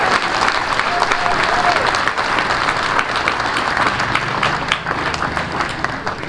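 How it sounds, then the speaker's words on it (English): A stadium crowd at a college football game event honoring veterans applauds loudly and steadily, dense clapping filling the whole stretch with no break. "How about a great round of applause for Mission Barbecue?"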